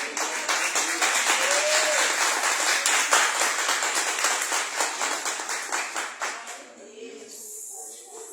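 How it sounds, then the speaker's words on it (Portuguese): During a Portuguese-language prayer service, a congregation claps in praise, a loud, dense, rhythmic burst of many hands that gradually fades, leaving softer scattered claps and a voice near the end. "Que as palmas louvem o Senhor, amados."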